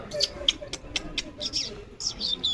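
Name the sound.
pigeon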